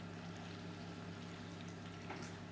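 Cooking oil poured by the tablespoon into a well in bread-roll flour, a soft steady liquid trickle over a constant low hum with no talk.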